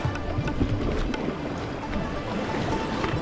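Paddles dig into a whitewater river from a raft at high altitude, heard as a dense, continuous rush of churning water with splashy strokes, close and steady for a few seconds.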